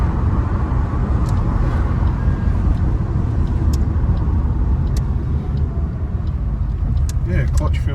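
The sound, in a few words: hatchback car being driven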